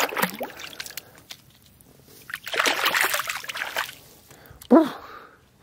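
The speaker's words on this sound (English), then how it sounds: "Dip our feet in." Feet dipping into cool lake water make a few separate splashes and sloshes: a small one at the start, a longer churning stretch in the middle, and a sharp splash near the end, close by over a quiet outdoor background.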